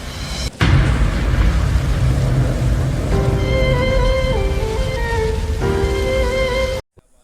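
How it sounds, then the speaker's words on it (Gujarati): Rain begins falling on an outing near Olpad, Surat, a steady broad hiss of drops after an abrupt start, with sustained tonal horn-like or engine tones layered in from mid-clip before the sound cuts off. "વરસાદ પણ શરૂ થઈ ચૂક્યો છે"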